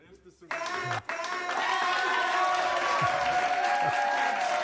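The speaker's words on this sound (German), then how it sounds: "Jetzt brauchen wir aber wieder einen ordentlichen Applaus" An audience applauds at a live-streamed concert in the Deutsches Theater München in May 2020. After a brief pause the clapping starts and holds steady and full, with tonal sounds ringing through it.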